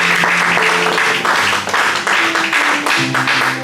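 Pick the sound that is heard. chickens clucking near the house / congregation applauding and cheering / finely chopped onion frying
congregation applauding and cheering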